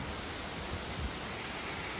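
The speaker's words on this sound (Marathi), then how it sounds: "आहे रानपाटचा धबधबा" Ranpat waterfall in the Konkan countryside roars as a steady, dense wash of rushing water, continuous and even, with no voices.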